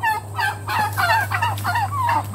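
Farm turkeys gobble loudly and close by in a rapid series of warbling calls, over a steady low mechanical hum, with no one speaking.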